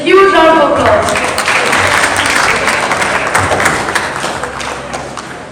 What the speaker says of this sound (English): Please welcome the performers on the stage with a huge round of applause.